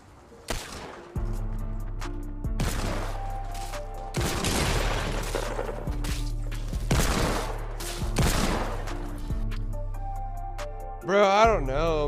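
Several loud shotgun blasts ring out in Fortnite, spaced apart over a steady low game hum, with a person talking over the action.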